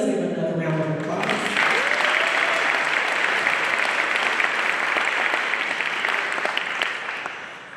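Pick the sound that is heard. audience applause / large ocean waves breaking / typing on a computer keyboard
audience applause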